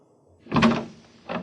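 A door opens in an old-time radio drama: a close, solid thunk and rattle of the latch, then a second softer knock, heard alone against quiet background.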